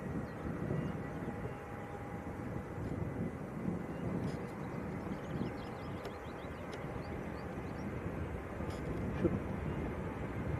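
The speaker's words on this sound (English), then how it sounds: "the Ryanair that is just about to roll" A Ryanair airliner beginning its takeoff roll at Leeds Bradford Airport, a distant steady low jet rumble and whine under wind buffeting the microphone, with faint clicks.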